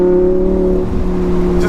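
A Lamborghini Huracan LP-610 engine revs loud and close, a steady low drone dipping mid-way as the transmission downshifts, then rising again with a brief rasp near the end.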